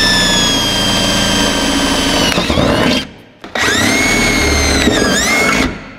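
A power drill whines at high speed boring a hole in a Sprinter van, spins down briefly, then revs up again and runs steadily before stopping; loud and close.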